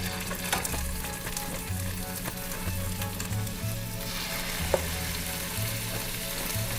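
Pieces of meat for a Belgian beer stew brown in a hot frying pan, a constant crackling sizzle and hiss with a few clinks and scrapes from stirring.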